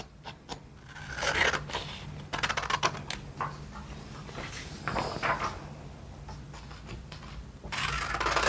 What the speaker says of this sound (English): So I'm gonna cut the corners of it